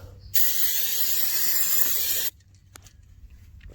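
A short spray burst hisses loudly for about two seconds as cleaner is applied to a Ford Escape brake rotor to remove its oil film, followed by quieter rubbing and faint clicks.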